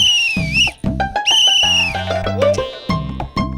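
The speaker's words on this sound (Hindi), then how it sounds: "बाबूजी ने 4 सीटी मारी" A man whistling in a sitcom scene, four sharp high-pitched whistle calls with sliding pitch, loud and close, mixed with a bouncy music bed underneath.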